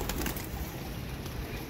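Several netted pigeons at a pigeon club coo softly in low murmuring tones, with faint bird rustling and scattered bird sounds above a steady background hiss, no talk.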